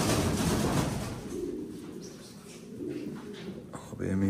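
Bukhara pigeon cooing softly inside a coop in Kardzhali, Bulgaria, low murmuring coos that come and go, fairly faint, with rustling and handling noise close by.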